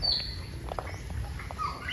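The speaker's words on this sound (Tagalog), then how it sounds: "Ay, daming ibon, oh." Many birds at a crocodile park and zoo chirp and tweet in short, scattered calls, fairly faint over a steady low background rumble.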